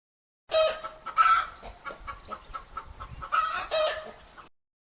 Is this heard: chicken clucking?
yes